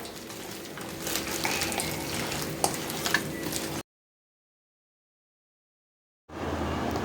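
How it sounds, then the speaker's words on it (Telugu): Onion pieces fry in a pan for Telangana-style fish curry, a faint steady sizzle with a couple of sharp utensil clicks, then a stretch of silence before the frying noise returns briefly. "ఉల్లిపాయ ముక్కలు ఇంకా ఫ్రై కావాలి."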